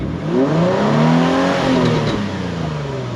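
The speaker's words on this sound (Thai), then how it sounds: "ผมพามาฟังฟังเสียง เสียงท่อจะไม่ดังมาก" A yellow Nissan 350Z with a 3,500 cc engine revs its exhaust in a smooth, moderately loud rise and fall, the pitch climbing then easing back to a steady drone.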